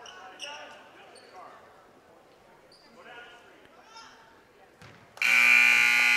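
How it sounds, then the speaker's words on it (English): A loud, sustained electronic game-ending buzzer blares abruptly at a boys' JV basketball game, after several seconds of echoing gym noise, voices and squeaking shoes. "there is the buzzer ending this game"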